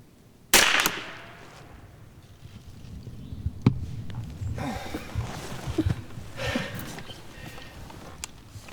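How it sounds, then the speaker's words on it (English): A single loud gunshot cracks out during a squirrel hunt while floating a river, followed by soft breathing, rustling and faint water and boat sounds. "the gun did just what it was supposed to. It went off without me anticipating it."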